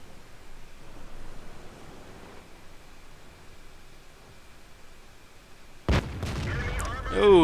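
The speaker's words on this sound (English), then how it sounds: "a little bit of lag there on the first shot, but Khalid hits the KV-1S" A tank's main gun fires in a World of Tanks battle. A soft hiss of ambient game noise runs for several seconds before one sudden, loud, booming shot near the end, followed by lingering rumble.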